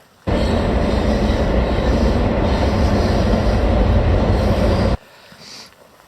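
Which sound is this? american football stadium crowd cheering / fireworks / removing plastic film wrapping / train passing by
train passing by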